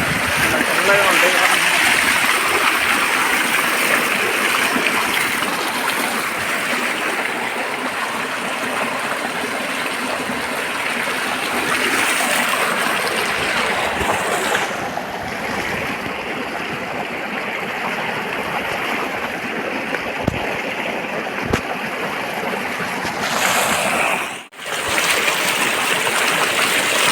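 Water from a farm pump motor gushes into a village field in a steady, loud rushing flow that continues for the whole stretch, dipping only briefly near the end.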